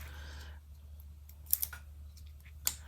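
Scissors cutting fabric for a handbag, two sharp close snips with a brief rustle between, over a low steady hum, no talk.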